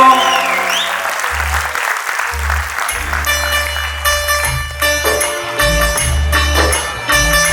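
An audience claps through a charity musical show for Gau Seva, applause dense and continuous under a live band playing bass and keyboard with a singer's voice in places.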